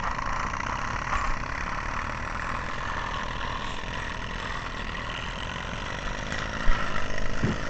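Model steam plant engine running on sterno fuel, a steady, even mechanical chugging and hiss that continues without pause at moderate loudness, with one small knock near the end.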